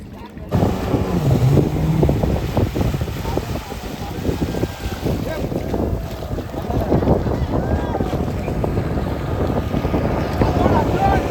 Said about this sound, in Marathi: आमची बोट आले.